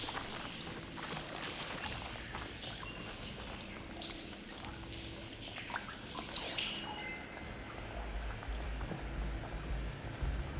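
Water flow switching over in the video game Horizon Forbidden West: soft bubbling and dripping ambience gives way midway to a rushing hiss of released water with a low rumble, fairly faint.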